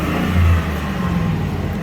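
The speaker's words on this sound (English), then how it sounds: "Okay, truck is running excellent. No issues there. Throttle response." A truck engine with lean-bank fault codes revs under throttle, a loud, close rumble that swells briefly and then settles, with no speech.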